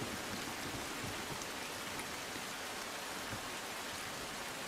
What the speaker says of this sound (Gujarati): બાબરા પંથકમાં ધોધમાર વરસાદ થતાં કાળુભાર નદીમાં પૂર આવ્યું